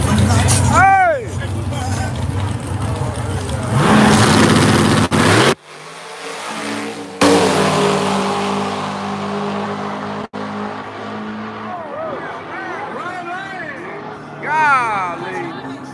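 A drag racing car revs hard on an outdoor dragstrip, engine note rising and falling loudly with rapid bursts, while spectators nearby shout and chatter over it.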